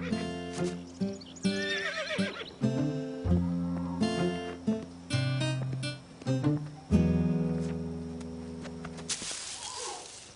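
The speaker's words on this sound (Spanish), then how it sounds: "El sonido del caballo asustó a Caillou." A horse neighs and whinnies repeatedly, loud and near, in several drawn-out calls with short breaks, ending in one long sustained whinny.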